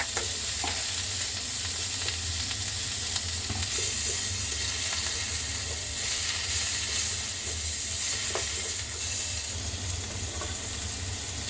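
Three kinds of capsicum, cut into rounds, hiss and crackle in a hot pan for a Mexican chicken steak, a dense unbroken sizzle close up with faint stirring clicks and no voices.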